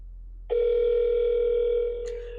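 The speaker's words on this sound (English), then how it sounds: "Well, you see the phone is ringing now." A single steady telephone ringback tone on an outgoing call starts abruptly and holds for about two seconds, clear and close with no talk.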